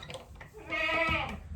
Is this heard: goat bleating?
yes